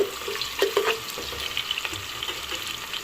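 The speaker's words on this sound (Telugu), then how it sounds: "ఆనియన్స్ బాగా దూరగా వేగాలి" Chopped onions frying in a pan for a chicken pulav, a steady close sizzle with scattered clinks and scrapes of stirring, no talking.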